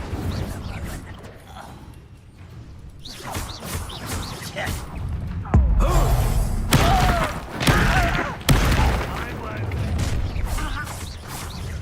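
Incendio fire spell cast during a duel in Hogwarts Legacy: heavy crashing, whooshing bursts with sharp onsets over rumbling combat effects, and a voice mixed in among the game sounds.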